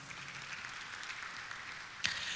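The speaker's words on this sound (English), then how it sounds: "Let's give them a round of applause." A conference hall audience applauds, a soft, fairly distant wash of clapping that holds steady, with one sharp bump near the end.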